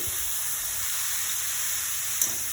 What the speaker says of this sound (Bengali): কড়াইতে একটু ঘি দিয়ে দিয়েছি